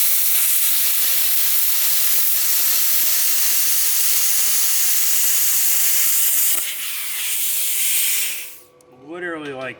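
A cheap Amazon plasma cutter slicing through metal at 42 amps gives off a loud, steady hiss that holds for about seven seconds, then thins and breaks off as the arc stops.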